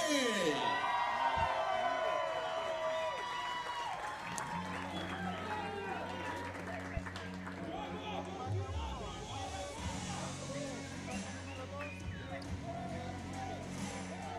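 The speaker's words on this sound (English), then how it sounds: "Let's everyone cheer." Spectators at a compound men's open archery gold-medal final in Santiago cheer and whoop for archer Douglas Godfrey, a loud burst at first that settles into a murmuring crowd with tonal hums underneath.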